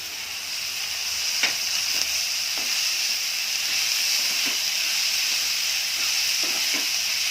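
Fenugreek sprouts sautéing with tomatoes in a pan give off a steady, moderately loud sizzling hiss that runs throughout, with a few faint stirring scrapes and no voices.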